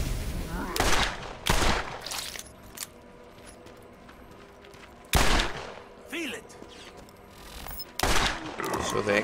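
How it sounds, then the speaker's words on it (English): Masher-type revolver firing in the video game Borderlands, a shotgun-like pistol: a few loud, sharp bursts spaced several seconds apart, each followed by brief rattling, with quieter game ambience in between. "these masher type revolvers, is that even though they are like shotguns, they are remarkably accurate even at very long ranges."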